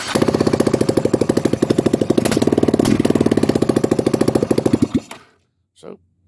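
A Yamaha Raptor 660 ATV engine runs with its exhaust off, giving a loud, rapid, steady pulsing beat for about five seconds before cutting out abruptly, followed by a brief faint sound.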